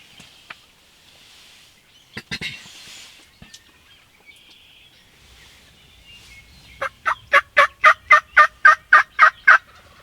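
Wild turkeys in a Nebraska hunting setting: scattered faint clucks and rustling in a quiet outdoor setting, then near the end a tom gobbles in a rapid, rhythmic series of loud calls.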